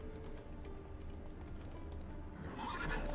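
Roach the horse in The Witcher 3: Hearts of Stone gives a neigh over steady clip-clopping hooves and low rumbling game ambience, fairly quiet and alone without talk.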